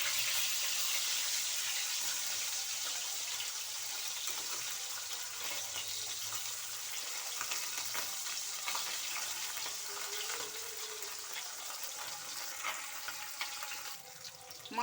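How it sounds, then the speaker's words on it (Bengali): Parshe fish frying in a pan of hot oil, a steady hiss and crackle of sizzling that runs throughout, fairly close, with small stirring and clattering touches and no talk. "তেল গরম হয়ে গেছে, এবার এক এক করে মাছগুলো দিয়ে দেব।"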